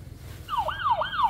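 A toy ambulance gives off a wailing electronic siren, rising and falling sweeps repeating about twice a second, clear and close after a brief quiet start.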